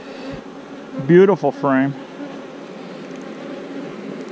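Honeybees hum steadily in the background around a pollen- and nectar-laden hive frame, a low continuous buzz, while someone speaks briefly over it.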